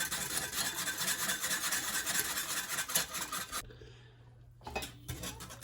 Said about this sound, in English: And give this a good whisk.